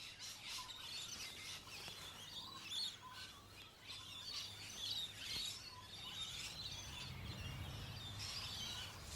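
Gaudy green parrots calling in leafy cover, a steady chorus of sharp chirps and squawks overlapping at middling distance with no pause.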